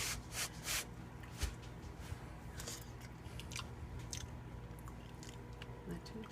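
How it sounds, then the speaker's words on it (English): Someone bites into and chews a soft alkaline electric zucchini bake, making faint, close, irregular crunching and moist chewing noises with a few sharper bites, over low background hiss. "Another little bite."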